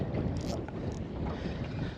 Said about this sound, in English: Not sure if you can hear it, but the wind's picked up quite a fair bit.